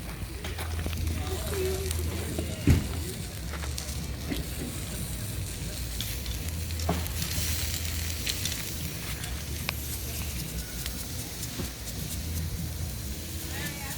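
Meat sizzles and crackles on a grill over an open campfire just after being flipped, a steady broadband hiss with occasional pops, heard under someone talking.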